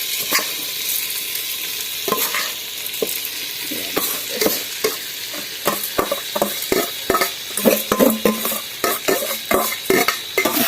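Rice fried on low gas in a pan, stirred with steady scraping strokes that quicken toward the end over a soft continuous sizzle, close and alone without talk.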